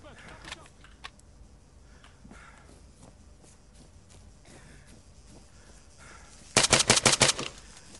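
Rifle gunfire in the military shooter game ARMA: a loud rapid burst of about six shots near the end, after quiet footsteps and faint ambient game noise.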